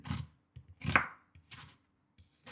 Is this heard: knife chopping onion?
yes